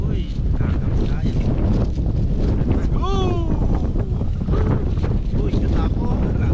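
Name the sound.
wind blowing at the shore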